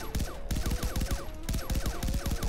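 Rapid bursts of automatic gunfire from a weapon in Far Cry 3 Blood Dragon, a dense, steady stream of close, loud shots with brief gaps, no talking over it.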